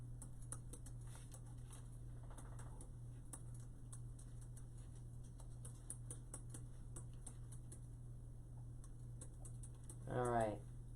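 Quick, irregular keystrokes on a computer keyboard patter faintly throughout against a steady low hum, with a brief voice near the end.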